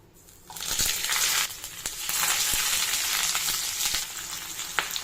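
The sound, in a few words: hilsa fish paturi frying in hot oil in a wok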